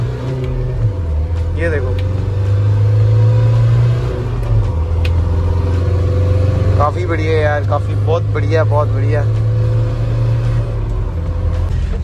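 A modified Mahindra Thar with lifted suspension accelerates with a steady low engine drone that shifts pitch as it picks up speed, heard from inside the vehicle while someone talks over it.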